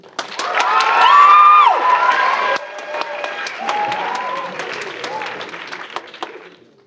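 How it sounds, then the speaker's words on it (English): Audience at a Writers Week poetry reading applauds and cheers for young poet Anvi as she returns to the stage; dense clapping mixes with bright whoops and shouts, swelling loudest early, then settling into steadier applause that fades out. "So clap it up."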